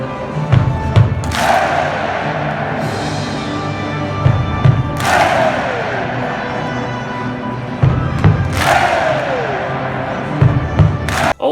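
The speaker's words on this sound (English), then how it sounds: "The fans were doing these Viking claps at the beginning" Seattle soccer fans in a packed stadium perform Viking claps, with a loud booming drum hit and a single unison clap repeating at slow, spaced intervals over a steady crowd roar.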